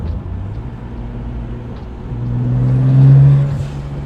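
A BMW 135i engine revs up to a strong peak and then falls back to idle, heard close and loud against a steady low engine rumble, with no talking.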